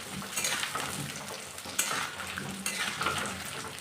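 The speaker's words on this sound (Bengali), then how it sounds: "তো দেখুন আলুগুলো আমি ভেজে নিচ্ছি।" Potatoes fry and sizzle in hot oil in a pan for mutton kosa, with a steady crackle and occasional stirring scrapes and utensil clinks, close and moderately loud with no talking.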